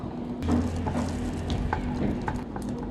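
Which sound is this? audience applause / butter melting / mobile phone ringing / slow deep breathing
butter melting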